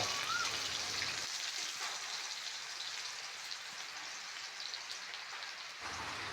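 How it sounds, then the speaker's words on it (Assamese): Onions and five-spice seeds fry in hot oil with a steady, dense sizzle and crackle, close and even throughout, with no talk over it. "এতিয়া গৰম তেলতে দি দিলে পাঁচফোৰণ কেইটামান তাৰপিছত পিঁয়াজ দি দিলে"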